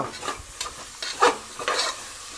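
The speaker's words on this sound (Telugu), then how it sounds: "ఉల్లిపాయలు కూడా చూడండి మంచి ఫ్రై అయిపోయినాయి" Long-sliced onions frying for Telangana bagara rice, a close sizzle with a quick series of scraping stirs against the pan.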